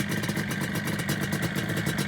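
A restored 1978 Yamaha RD250 two-stroke motorcycle engine idles steadily nearby, a continuous loud buzzing drone with a fast rattly pulse and no gaps across the short stretch.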